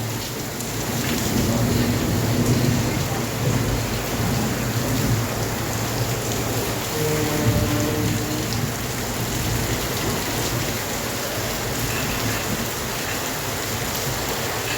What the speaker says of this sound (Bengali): এখন বৃষ্টি।